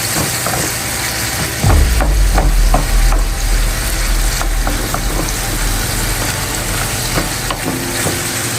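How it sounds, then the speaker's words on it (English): Pieces of bacon fry to crispness for an asparagus bacon quiche, a loud, continuous crackling sizzle under a low rumbling hum, with scattered pops and utensil taps throughout. "Fry the bacon to crispy"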